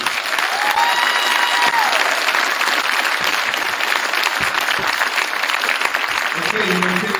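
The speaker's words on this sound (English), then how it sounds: "Hey, let's give this group a round of applause." An audience at a middle school academic recognition ceremony gives a student group a loud, continuous round of applause, with brief voices and a few whoops rising over the steady clapping.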